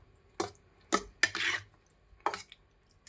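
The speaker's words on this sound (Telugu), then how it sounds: "ఇలా తీసుకుని పెరుగు మొత్తం స్మాష్ లాగా ఇలా కలుపుకోవాలి" A spoon stirs and mashes curd (yogurt) in a bowl for a pachadi, giving four or five separate clinks and scrapes spaced about half a second apart, close and clear against a quiet background.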